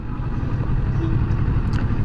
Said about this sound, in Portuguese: Vou reduzir a marcha, terceira, segunda.